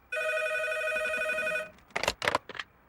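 A telephone rings with one long electronic trill of about a second and a half. Brief rustling and clattering follow as the handset is picked up, with no voices.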